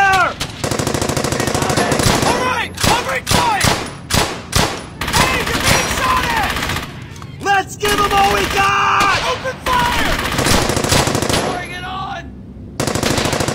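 Machine gun fire in the WWII shooter Brothers in Arms: Hell's Highway, loud sustained bursts of automatic fire with sharp individual cracks, mixed with battle sounds and shouted voices throughout.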